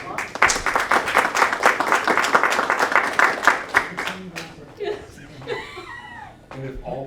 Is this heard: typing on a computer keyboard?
no